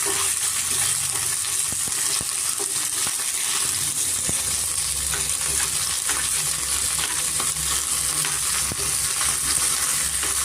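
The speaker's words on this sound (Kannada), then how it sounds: "ಎರಡು ಸೈಡು ಚೆನ್ನಾಗಿ ನಾವು ಫ್ರೈ ಮಾಡ್ಕೊಬೇಕಾಗುತ್ತೆ" Garlic butter chicken pieces fry in a pan, a loud, dense and continuous sizzle with occasional light scrapes and taps from a spoon, heard close and without speech.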